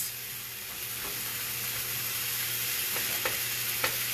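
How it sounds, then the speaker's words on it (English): Chopped vegetables fry in a non-stick wok pan for a crab casserole, a steady close sizzle with a few faint stirring clicks toward the end and no talk. "I want to cook this for about, maybe a minute to soften up those vegetables"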